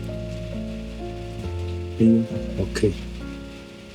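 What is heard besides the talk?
pouring rain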